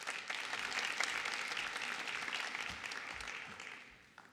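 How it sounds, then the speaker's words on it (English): Moderate audience applause in a presentation hall during a pitch event, a steady crackle of clapping that gradually thins and fades out. "Please give her a round of applause."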